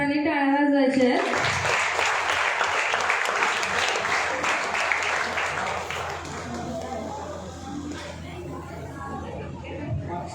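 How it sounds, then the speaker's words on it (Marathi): An audience applauds students at an SSC results toppers' felicitation held by Maharashtra Classes in Barshi. After a brief voice, loud dense clapping swells and fills the room, then thins out into scattered claps and murmuring voices. "सर्वांनी टाळ्या वाजवायच्या आहेत."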